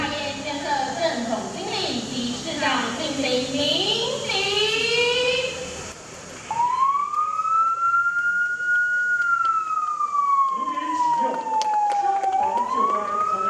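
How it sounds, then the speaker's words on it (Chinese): A brand-new dual-cab fire truck sounds its siren, a loud wailing tone that rises and falls in long sweeps, with a second siren pattern and some chatter in the background before the main wail takes over. "消防车的鸣笛声响彻云霄"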